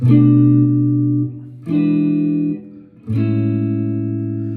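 Three sustained jazz guitar chords of a major 2-5-1 progression ring out one after another, each strummed and held for over a second, resolving on a major chord, clean and mellow with no other instruments.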